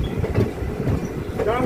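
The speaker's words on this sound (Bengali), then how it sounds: "ট্রেন চলে এসেছে আর তার সাথে সাথে বৃষ্টিও পড়ছে" A train pulls into a station in the rain with a steady rumble and clattering wheels, and faint voices are heard under the noise.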